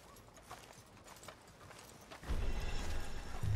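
Horse hooves clip-clopping in a steady rhythm in the video game Red Dead Redemption 2, faint at first and then louder and closer, with rumbling movement underneath.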